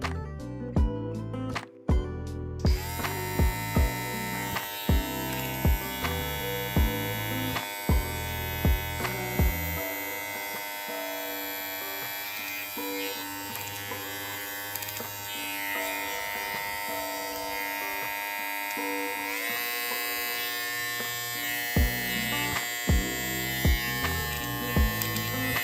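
A Babyliss T45 hair trimmer runs with a strong, steady high-RPM motor buzz and hum that holds for most of the stretch, broken by a few short clicks and load changes, with no one speaking.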